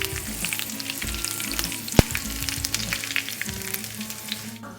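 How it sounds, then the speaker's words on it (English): Hot pine nuts poured over yogurt crackle and sizzle continuously, a close, bright frying hiss with one sharp click partway through and no talking. "the best part is when you pour those pine nuts, sizzling pine nuts over your yogurt"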